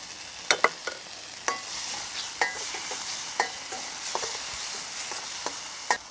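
A restaurant-style madras curry sizzles loudly in the pan as base gravy is stirred in, a close, constant hiss punctuated by sharp, irregular clicks of the spoon.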